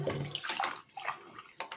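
Tap water gushes and splashes while a household water filter is rinsed clean, a close, hissing stream that surges and dips in short bursts with no speech.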